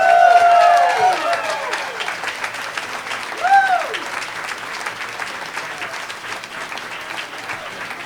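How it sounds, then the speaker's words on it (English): An audience applauds at a live storytelling show, strong clapping at the start that thins and fades, with a loose whooping cheer partway through. "let's get another round of applause for Suzanne Schmidt"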